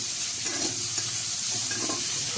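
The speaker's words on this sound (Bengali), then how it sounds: "এবার পেঁয়াজটাকে আমি একটু হালকা হালকা করে ভাজা করে নিচ্ছি।" Onion and spices fry over low heat in a pan, giving a loud, steady sizzle with stirring scrapes throughout and no talking.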